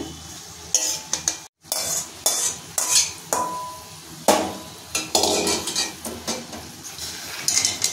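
A spoon scrapes and stirs spices with snake gourd in a pan with repeated bursts of scraping and clinking, over a soft sizzle, close and fairly loud with no talking.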